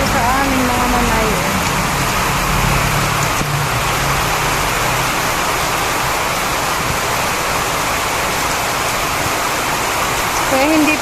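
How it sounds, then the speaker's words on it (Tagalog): Heavy rain pouring down in the Philippines, a loud dense hiss that stays constant throughout with no break, and faint voices or a passing vehicle underneath at the start. "Ang lakas ng ulan dito sa amin, mga manay."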